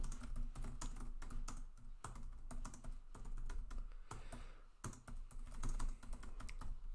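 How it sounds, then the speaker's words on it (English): Rapid, uneven clicking of computer keyboard keys in bursts with brief pauses, close to the microphone and quiet, with no one speaking. "Typing while recording is almost as bad as doing math live."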